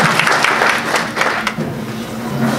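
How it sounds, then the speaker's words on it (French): Applause from an audience at an oratory seminar, a dense wash of clapping that stays fairly loud for a couple of seconds and then thins out, with murmured voices underneath. "Applaudissez pour elle."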